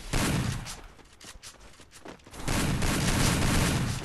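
Rapid bursts of gunfire in a 6 vs 6 shooter video game match, loud and dense at the start, thinning in the middle, then swelling again into sustained shooting at the end, with no talk over it.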